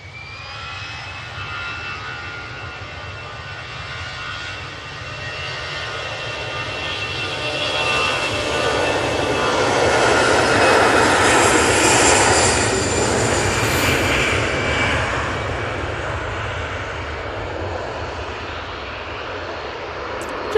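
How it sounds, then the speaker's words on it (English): A jet airliner arrives at an airport with a loud, sustained engine roar that swells toward the middle as it passes close by and then slowly fades, heard alone without talk. "Just had a jet to arrive."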